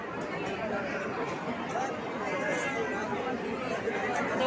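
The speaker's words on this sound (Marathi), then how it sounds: "किती गर्दी आहे" Dense crowd of pilgrims packed into Tuljapur temple, a steady close hubbub of many overlapping voices and shuffling with no single speaker standing out.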